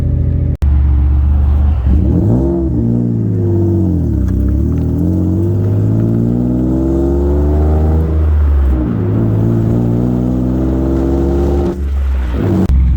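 A red Ford Taurus SHO drives along with its engine humming and rising and falling in pitch as it accelerates and eases off, steady and loud from inside the cabin, no talking.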